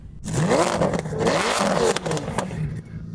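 A Lamborghini V10 engine revs hard and high, with rising and falling pitch sweeps, loud and close, easing off near the end.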